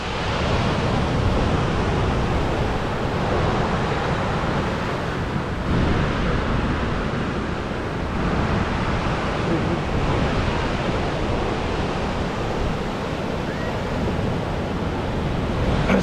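Steady broadband rush of ocean water at a cold shoreline, continuous and fairly loud with little variation, mixed with wind buffeting the microphone.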